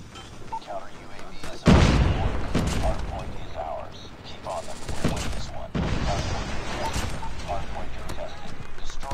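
Shotgun blasts in Call of Duty Mobile, a heavy report near the start followed by further shots and clattering game effects, with a player talking over the action.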